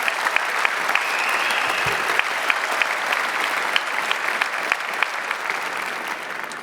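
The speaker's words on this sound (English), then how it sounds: "Could we have a very big round of applause?" Big round of audience applause at a startup pitch competition event, a thick continuous patter of many hands with scattered sharper individual claps standing out, holding steady for several seconds.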